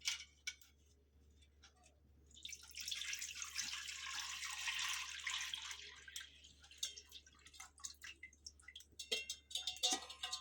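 Squeezed tamarind water splashes and trickles into an old clay pot, a steady wet pour lasting a few seconds before giving way to scattered drips and light clinks, fairly close and quiet.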